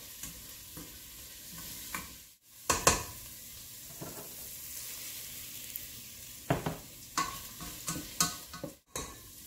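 Fennel softening in a pan with a low, steady sizzle, broken by intermittent scrapes and clicks of a utensil stirring against the pan, close and fairly quiet, no talking.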